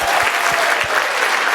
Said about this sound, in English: let's give a big round of applause to all of our Lightning Talk speakers at SciPy.